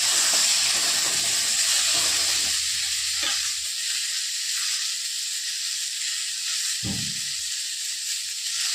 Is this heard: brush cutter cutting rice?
no